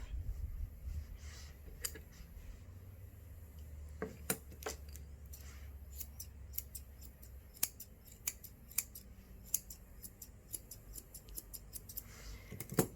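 Scissors trimming the hair around a dog's face and nose, with a string of close, crisp snips scattered irregularly over a quiet background, some in quick pairs.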